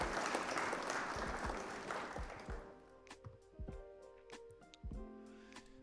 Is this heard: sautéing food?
no